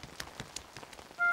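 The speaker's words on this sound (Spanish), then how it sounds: "Hoy está lloviendo un poco." Light rain falls in a Peppa Pig cartoon scene, heard as faint, scattered patters and soft drops ending in a brief tonal chime, with no speech.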